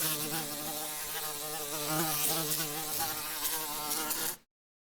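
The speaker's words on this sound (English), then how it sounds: "an additional 4th signal, bees buzzing, which contains the sound of a recorded bee" Recorded bee buzzing played back through a speaker held above a plant, a steady, dense insect drone with layered harmonic tones that holds at an even loudness for about four seconds and then cuts off abruptly.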